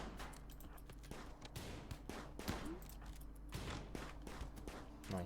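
RimWorld colony battle with repeated faint gunshots in a fusillade-like rhythm, distant and quiet throughout, with little or no talk.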